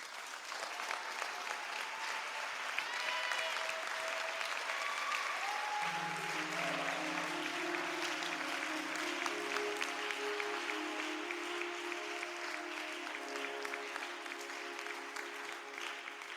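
A church congregation claps steadily through a Sunday worship service, a sustained wash of applause with an organ or keyboard chord sounding beneath it from midway on.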